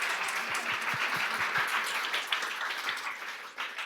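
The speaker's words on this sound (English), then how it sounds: "Please, big round of applause for them." An audience at a coding bootcamp demo day in London applauds a presenting team, a moderate, even spread of clapping with a few distinct nearer claps early on, fading slightly toward the end.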